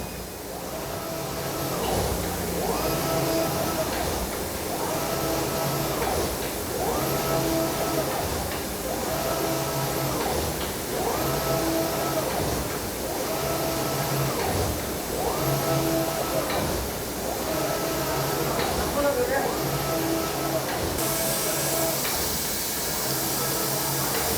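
Digital textile printing machine printing fabric in a large factory, a constant loud mechanical hum with a regular repeating swish as the print head sweeps back and forth, steady throughout.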